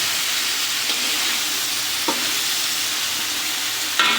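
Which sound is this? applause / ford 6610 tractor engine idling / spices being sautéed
spices being sautéed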